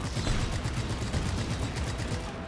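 Rapid bursts of gunfire ring out in the video game Just Cause 3, a dense crackling volley of repeated shots that keeps up steadily and loudly throughout.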